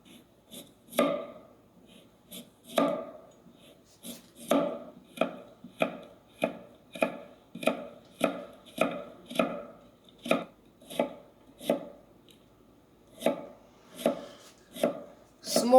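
A knife chops rhythmically on a board, dicing Cheongyang chili peppers small in quick, steady, close strokes with brief pauses between bursts.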